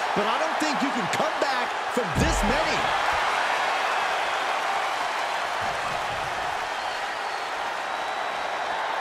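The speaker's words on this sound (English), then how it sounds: "The WWE Universe is showing their appreciation for the action they're seeing." An arena crowd in the WWE 2K24 wrestling video game applauds steadily during a Goldberg match, a continuous wash of clapping with a few heavy thuds early on, under a commentator's talk.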